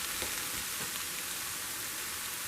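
Italian sausage and bell peppers sizzle steadily in a frying pan, a dense, even hiss of fat crackling up close with no talk.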